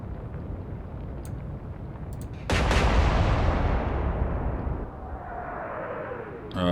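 A heavy naval gun blast erupts from warship turrets in the Atlantic Fleet game's Battle of the Denmark Strait, a sudden loud boom that rumbles and decays over several seconds against steady background noise.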